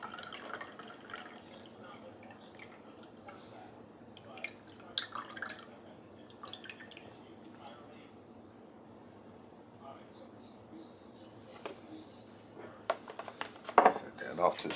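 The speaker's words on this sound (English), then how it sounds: "What I'm going to do is drain that cold water off into a cup here just to get rid of it." Cold water drains off shrimp into a cup in a kitchen, giving soft drips and trickles with small clinks of dishes and utensils. The sounds are faint, with a few sharper knocks near the end and talking heard.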